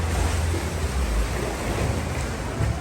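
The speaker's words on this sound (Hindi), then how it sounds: "देखें दोस्तों कैसा ब्लू पानी है और ये समंदर है" Sea waves wash along the coast of Montenegro near an island, a steady loud roar of surf with heavy low rumble and no voices.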